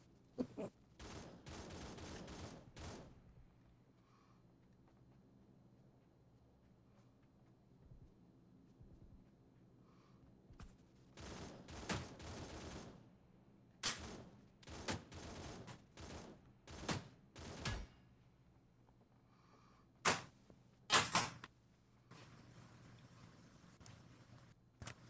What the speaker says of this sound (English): Listen, bot, stop shooting at me.